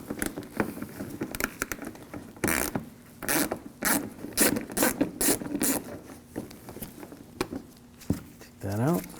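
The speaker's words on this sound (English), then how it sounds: "I'm going to take these screws out on the side," An 8mm ratchet socket wrench backing out screws on the front lower grille of a 2007–2013 BMW 328i, bursts of quick clicking ratchet strokes, close up, with someone talking between them.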